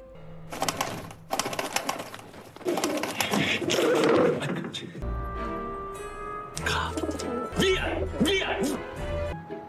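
Pigeons coo in repeated soft, low phrases through a dramatized scene, mixed with loud speech and background music that partly mask them.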